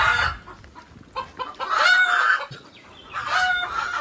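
Chickens cluck and a rooster crows repeatedly outdoors in a village near the post office, several birds calling close by in overlapping bursts.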